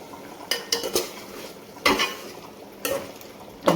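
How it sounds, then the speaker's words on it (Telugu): A spoon stirring broad bean and tomato curry in a pan, four or five separate scraping clinks at irregular intervals over a low sizzle, close and without speech. "మూత ఓపెన్ చేసి ఒకసారి మళ్ళీ మధ్యలో ఇలా కలుపుకోవాలి"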